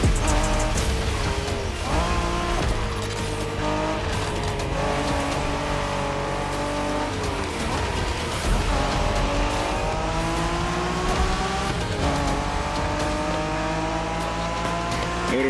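Cars in Japanese-style street racing in The Crew Motorfest roar loudly and continuously, engines revving up and down through gear shifts with bursts of tire squeal.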